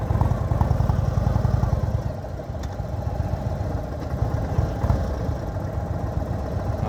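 A 2022 Indian Super Chief motorcycle idles steadily nearby, a deep, even, rumbling engine throb that holds a constant loud level for the whole stretch, with no voices over it.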